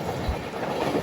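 A train pulls into Thiruvananthapuram Pettah station with a steady, close rumble and rhythmic clickety-clack of wheels on rails, no voices over it.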